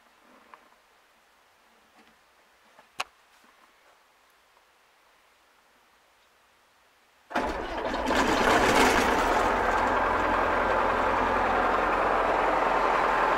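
A German E303 hay mower's engine, started directly by bypassing the usual starter, catches abruptly after a quiet lead-in with a single sharp click, then runs steadily and loudly with a broad, continuous droning roar.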